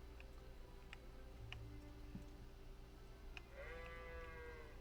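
Sheep in Kingdom Come Deliverance video game, a quiet bleat near the end over a soft steady ambient game background, with faint ticking clicks scattered throughout.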